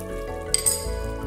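A spoon stirs cornflour into a thickening chilli soya gravy in a pan over a gas flame, making a soft sizzle with a couple of quick metallic clinks, brief and close with no voices.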